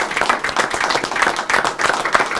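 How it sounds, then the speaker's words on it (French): Attendees at a December regional county council meeting in Portneuf clap for the staff. The close, brisk clapping comes from a modest group and is dense and uneven, with no talking over it. "Peut-on applaudir nos employés qui ont fait un excellent travail?"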